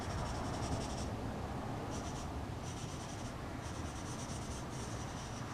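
A pencil shading in dark tone on paper, a steady close scratchy rub with brief pauses between strokes, quiet and alone.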